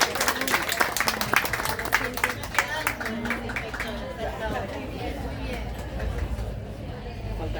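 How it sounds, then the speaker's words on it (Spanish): Applause from an audience at a school teaching event, sparse clapping for the first few seconds then fading into crowd chatter and voices. "Aplauso para las inspectoras,"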